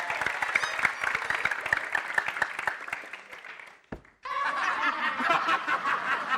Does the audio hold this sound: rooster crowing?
no